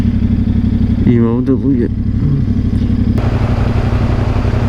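Motorcycle riding through Monaco, its engine a steady, close mid-pitched drone under a voice speaking briefly, with wind and road noise throughout.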